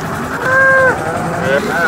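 A cow moos at a busy cattle market in Modnimb, Maharashtra, a drawn-out nearby call followed by a shorter second low, with crowd noise and people talking around it.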